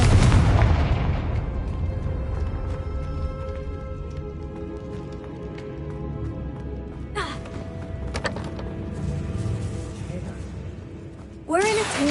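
A Confringo fire spell in Hogwarts Legacy goes off inside a tomb with a sharp, near blast, and a second burst follows near the end over a rumbling game background. A voice calls out at the start.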